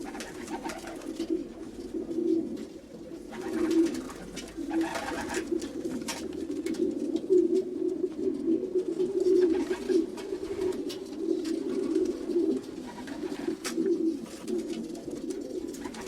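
Racing pigeon cooing in a soft, low, repeated rhythm, close and steady over about sixteen seconds, with faint background noise between calls.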